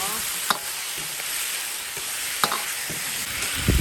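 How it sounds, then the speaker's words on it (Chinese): Pork belly stir-fried with ciba chili paste in a wok, a loud continuous sizzle with sharp spatula scrapes every second or two. "咱們下入這個肉，給它炒"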